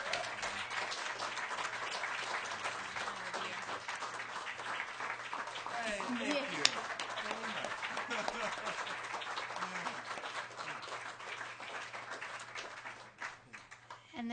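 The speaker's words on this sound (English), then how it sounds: "I want to give you a round of applause" An audience at a small live music gathering claps steadily in a long, even round of applause, with brief voices rising midway before the clapping thins out near the end.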